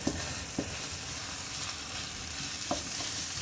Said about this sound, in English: That chicken's frying up really nice.